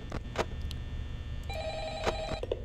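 Telephone ringing in the horror game Five Nights at Freddy's, a trilling electronic ring repeating in short bursts over a low hum, with no talk.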